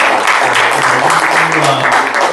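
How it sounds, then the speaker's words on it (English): Audience applause for Adem Edelen at a campaign event for state auditor, steady dense clapping throughout the short stretch with a faint low murmur beneath. "Let's give Mr. Edelen another good round of applause."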